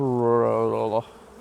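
Honeybees shaken out of a hive frame give a short, loud, close buzzing drone that cuts off after about a second, followed by quiet.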